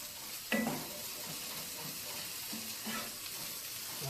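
Sausage, bacon and onions cook together in a pot with a steady low sizzle. Now and then a utensil scrapes or stirs at the pot, all fairly faint and with no talking.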